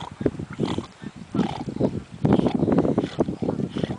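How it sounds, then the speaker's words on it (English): A swimming dog snorts and huffs repeatedly, rough, irregular bursts of breath close by, coming in quick clusters. "that's Brandy snorting"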